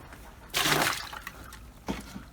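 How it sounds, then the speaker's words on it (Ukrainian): Water tipped out of a rabbit's drinking bowl, a short splashing pour that runs for about half a second, then a smaller second splash near the end, heard alone and fairly close. "Зараз я водичку уберу, щоб вилью"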